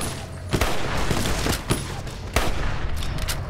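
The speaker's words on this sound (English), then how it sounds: "we are getting shot. who else is shooting us" Gunfire in Fallout: New Vegas rings out in sharp, loud scattered shots, several distinct cracks over a steady rumbling background, with no talking.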